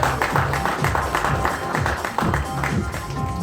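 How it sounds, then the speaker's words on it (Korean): Audience applause at a press conference launching AMD Ryzen 5 desktop processors in Korea: dense, continuous clapping from a crowd, with a voice faintly mixed in. "큰 박수 부탁드립니다."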